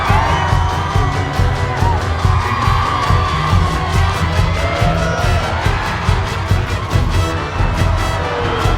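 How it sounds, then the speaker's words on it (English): A crowd at a dance claps, cheers and whoops continuously over loud, steady music, a packed and boisterous party din. "The crowd claps and cheers."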